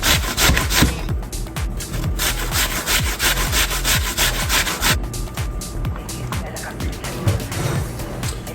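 Honeycrisp and Granny Smith apples are grated against a hand grater in rapid rhythmic strokes, a loud, close scraping rasp repeating over and over.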